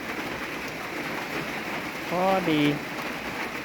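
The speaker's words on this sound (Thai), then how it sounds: "ฝนตกแล้วเด้อ" Steady rain falls on a rural Lao homestead, a soft continuous hiss filling the background, while a voice speaks briefly near the middle.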